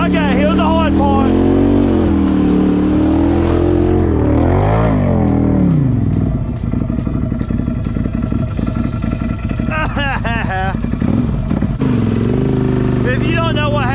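A Can-Am Outlander ATV engine revs hard in high range while stuck in mud. The loud, sustained roar rises and falls across the clip, with brief surges, and voices talk over it.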